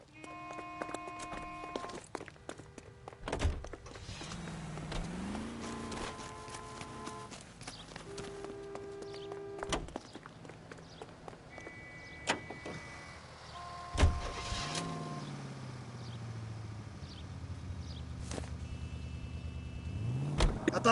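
Car engine in the video game L.A. Noire, revving and rising in pitch as it pulls away and shifts, with clunks and door-like thuds scattered over a steady game ambience; no one speaks.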